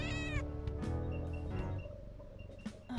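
A cat meows repeatedly in the hidden-object video game Thingamajigs, clear tonal cries in quick succession that stand alone.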